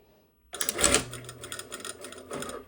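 A sewing machine stitches an all-in-one facing onto a bodice, starting abruptly into a close, rapid mechanical whir and clatter that runs for about two seconds with slight changes in speed.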